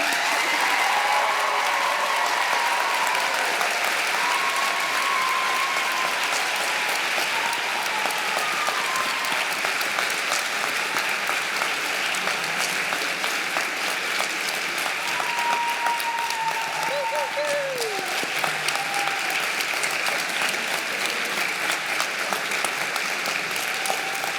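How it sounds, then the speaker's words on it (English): A crowd at a high school graduation ceremony applauds for a long stretch, with dense, sustained clapping and a few cheers heard at a moderate distance. "And now, please applause for Carpenter Crew."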